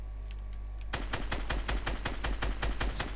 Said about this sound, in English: Where's this guy shooting from?